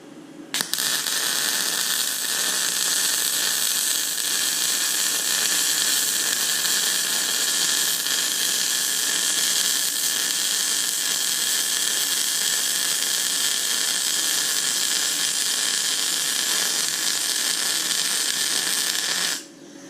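A YesWelder MP200 welder runs at its 200-amp maximum with voltage turned up to 22 volts, giving a steady, loud hiss and crackle that holds without a break for about nineteen seconds, close up and with no talking.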